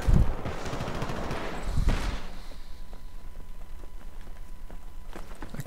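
Gunfire from the Syndicate video game, a few sharp shots near the start and around the two-second mark, then quieter scattered impacts over a low game rumble with no talk.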